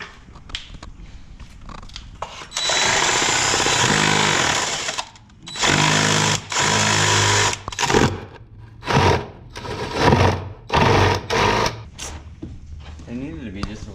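A power drill works on a Corvette, whirring in several bursts, one long run followed by shorter stop-start spurts, loud and close.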